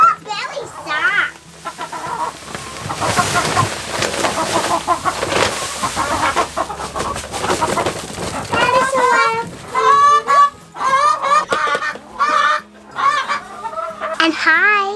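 Chickens on a homestead cluck and squawk in repeated bursts, close and fairly loud, mixed with people talking and a voice through much of the stretch.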